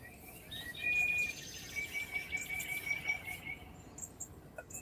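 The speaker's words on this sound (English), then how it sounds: "If they just want to hear the birds sing," Morning birdsong outdoors, thin high whistled chirps and trills drifting at moderate distance over a low ambient hiss, with a faint insect-like buzz underneath.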